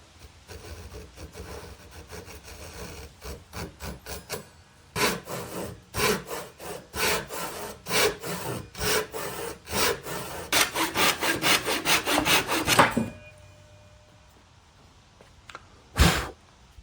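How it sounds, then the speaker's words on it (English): A Japanese handsaw cuts through a wood board on old drafting drawers being rebuilt into a cabinet, with a rhythmic series of close, rasping push-pull strokes that speed up and then stop, followed by one last scrape. "cut using a Japanese handsaw so I get a thin, clean cut"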